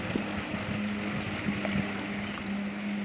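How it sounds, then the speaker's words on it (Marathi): Sea at Malvan beach, with boats moored along the shore, gives a steady washing surf noise, joined by a constant low engine-like hum and a few faint thumps. "मी आलो मालवणच्या समुद्र किनाऱ्यावर"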